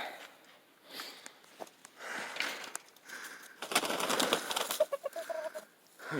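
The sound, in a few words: chickens clucking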